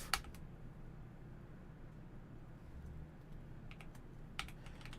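Code being typed on a computer keyboard, with a sharp burst of keystrokes at the start, a quiet stretch, then a few more clustered key taps near the end.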